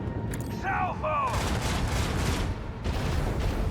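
A macro cannon salvo in Warhammer 40k Rogue Trader, a heavy rolling boom of many guns firing together, sustained and loud, with a short voice line just before it.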